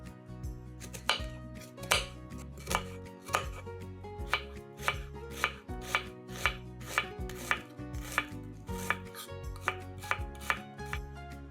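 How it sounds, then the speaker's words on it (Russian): A knife dices an onion on a board in close, crisp chops, about a dozen firm strikes in a fairly steady rhythm with brief pauses, over quiet background music and no talking. "Одну луковицу нарезаем кубиками"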